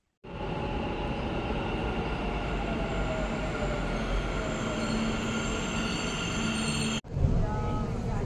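A metro train heading to MG Road rumbles steadily at close range with a constant roar and faint high squealing, then a sudden brief break before the noise resumes.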